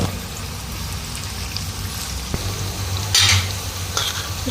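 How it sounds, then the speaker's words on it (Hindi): Onion frying in oil in a frying pan gives a soft, continuous sizzle with a few stirring scrapes and clinks, fairly faint and close. "फ्राई पैन में हमने तेल डाला, इसमें हमने प्याज डाल दी।"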